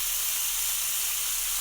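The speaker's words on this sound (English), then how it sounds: "wait for a few minutes for the liver to get seared on that side" Pieces of liver sear in a hot pan, giving a steady, even sizzling hiss that holds unbroken and fairly soft with no voices over it.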